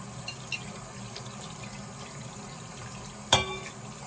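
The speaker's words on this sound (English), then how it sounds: "get all that soap rinsed off of there" Water runs steadily from a tap, rinsing soap off a tumbler, a low continuous splash with a sharp clink near the end.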